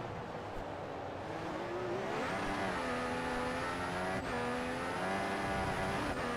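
Race car engines whine in an F1 mod racing video game set in rain in Spain, a loud sustained high tone that climbs through the gears, with brief drops at the shifts and steady engine drone beneath.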